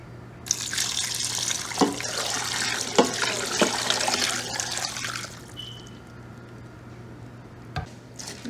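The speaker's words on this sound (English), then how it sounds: "Then water." Tap water runs steadily into a pot of Nigerian egusi soup with turkey, bouillon and onions, a broad splashing rush lasting several seconds with a few knocks before it stops, followed by quiet kitchen sounds.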